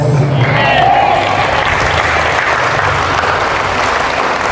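Church congregation in Caloocan City clapping together in sustained, loud, dense applause that fills the whole stretch, with a faint voice briefly rising above it.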